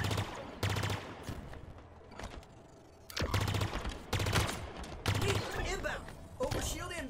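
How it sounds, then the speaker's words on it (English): Pulse carbine bursts in Halo Infinite, arriving as several rapid volleys separated by short pauses over a steady game soundtrack. "Now the pulse carbine."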